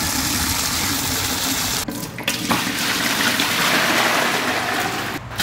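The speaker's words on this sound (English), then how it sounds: "we're going to fill up our fish tank with pure tap water" Tap water gushes into a fish tank in a steady, loud rush, briefly interrupted twice as the flow is shifted, then running on strongly.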